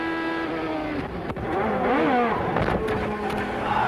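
Onboard a Toyota Atlantic open-wheel race car at Nazareth in 1994, the engine screams loud and steady, its pitch rising and dipping through gear changes and throttle lifts as it pulls out alongside a teammate.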